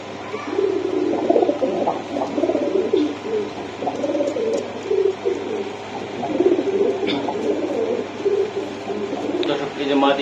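Pakistani Teddy high-flying pigeons coo in a steady, soft, rolling murmur that runs the whole time, with voices talking faintly in the background.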